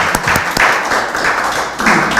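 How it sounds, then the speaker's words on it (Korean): In a lecture hall, the audience at a bioethics talk breaks into brief, loud applause, a short burst of many hands clapping close by. "다음 주에 미리 박수를 하겠습니다"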